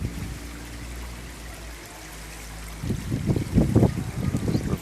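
Running water from a waterfall feeding a sturgeon and koi pond, a steady trickle that swells into louder, closer splashing and gurgling partway through, with no voices.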